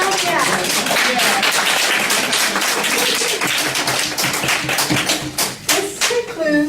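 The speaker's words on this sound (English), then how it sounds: "please join me in a round of applause for Dr. Nadia" An audience at a lunchtime health talk breaks into sustained applause, dense close clapping that fills the room for several seconds before thinning out at the end.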